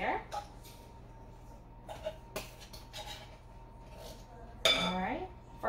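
A spoon clinks and scrapes against a container while banana pudding mix is dug out, a few sharp taps and scrapes spaced out, with a voice talking in between.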